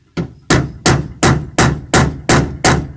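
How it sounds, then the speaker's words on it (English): A hammer strikes a screwdriver wedged behind the door panel of a 1975 Kenworth LW924 truck, eight sharp metallic blows at a steady, evenly spaced rhythm, loud and close with no talking. "Now let's see if we can pop it with a screwdriver"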